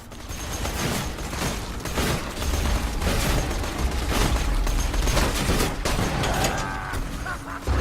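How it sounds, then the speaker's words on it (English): Gunfire from a sniper rifle in the video game Borderlands 2, with shots and bursts cracking over a dense, busy mix of game effects and machinery-like clatter that runs loudly throughout. "there you saw a sniper shot sniping one of ZERO's main skill trees there"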